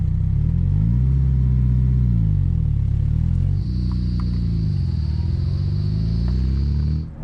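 A 2002 Renault Clio Sport with a naturally aspirated four-cylinder engine burbles steadily at close range, its deep rumble rising and falling through gentle rev changes with no talk over it.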